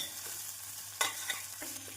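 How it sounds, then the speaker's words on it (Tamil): Soft sizzling of chopped mushrooms sautéing over medium flame with onion and ginger-garlic paste, a few scraping stirs of a spoon in the pan, steady and fairly quiet, with no one talking. "காளான் சேர்த்து மீடியம் ஃப்ளேமில் இரண்டு நிமிடம் வதக்கிய பின்னர்"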